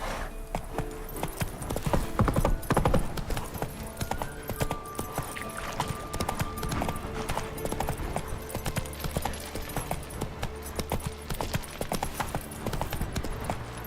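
Roach, the horse in The Witcher 3: Wild Hunt, galloping with rapid rhythmic hoofbeats, steady and close over a busy game soundscape.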